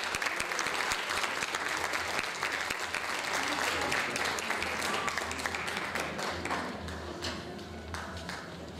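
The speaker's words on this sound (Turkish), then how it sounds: "Saz arkadaşlarımı alkışlarınızla yerlerine almak istiyorum." An audience at a Turkish folk music concert applauds to welcome saz players to the stage, with dense, steady clapping from many hands that tapers slightly toward the end.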